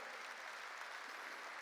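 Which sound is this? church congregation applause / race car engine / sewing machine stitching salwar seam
church congregation applause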